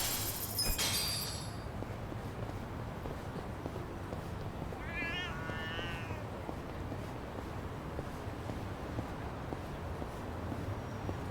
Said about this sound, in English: I gotta find this cat.